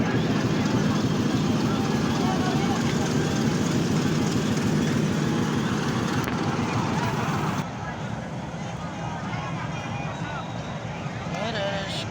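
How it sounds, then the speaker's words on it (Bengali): A crowded train pulls out of Narsingdi railway station in Bangladesh, a loud continuous rumble and rattle of wagons that drops slightly midway, with people talking throughout. "নরসিংদী থেকে ট্রেনটি ছেড়ে যাচ্ছে, আপনারা সবাই দেখুন।"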